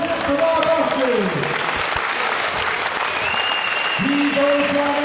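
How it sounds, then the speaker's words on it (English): A boxing crowd applauds the fighters after a bout, steady loud clapping throughout with a voice speaking over it at times. "Please have a massive round of applause for both of our boxers."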